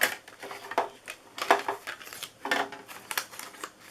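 Paper and a cutting die on a plate passing through a die-cutting machine, heard as a series of close, crisp crunching and clicking bursts at a regular rhythm, fairly quiet.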